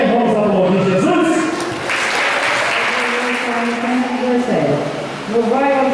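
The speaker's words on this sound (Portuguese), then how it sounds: "Vamos aplaudir Jesus" A church congregation applauding during a 12th anniversary service, sustained clapping under singing or voiced melodic sounds that rise and fall across the whole stretch.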